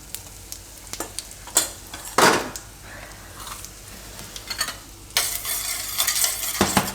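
Cumin and asafoetida roast in butter in a pan, a soft crackle with intermittent spoon scrapes and knocks, rising to a louder, fuller sizzle near the end.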